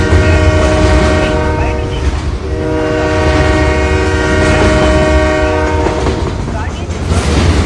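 A train roars past at close range, its horn blaring in a long sustained blast over the heavy rumble and clatter of the wagons, with a railway station setting around it.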